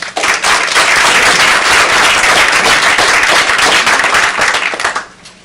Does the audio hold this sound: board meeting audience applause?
yes